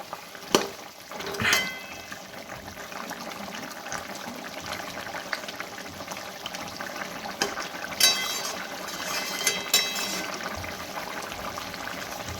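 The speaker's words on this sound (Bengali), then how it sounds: "সামনে লেবু 3টে লেবুর পাতা দিয়ে দিচ্ছি। এবার একটু ভালো করে মিশিয়ে নেব।" Chicken with lemon and lemon leaves cooks in a pan while being stirred, giving a steady sizzling and bubbling bed broken by a few sharp utensil clinks and scrapes against the pan.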